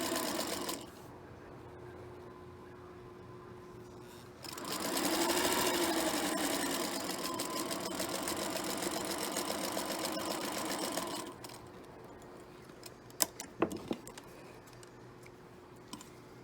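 A sewing machine stitches a quilt label along a seam in steady, even bursts, starting and stopping a few times, close and clear, with a few sharp clicks near the end and no talking.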